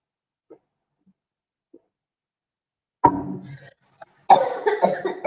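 A person coughing from a tickle in the throat: after a few faint small sounds, two close, fairly loud bursts of coughing arrive, the second harsher and longer, with no talking.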